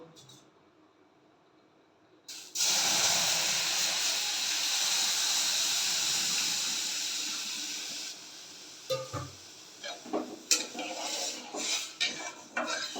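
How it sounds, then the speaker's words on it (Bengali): Milk poured onto hot fried semolina in a pan bursts into a loud hissing sizzle that slowly fades, followed by scraping and clinking of a spoon stirring against the pot. "সুজিটা অনেকটাই ভাজা হয়ে গেছে, এবার দেখো দুধ দিয়ে দেবো"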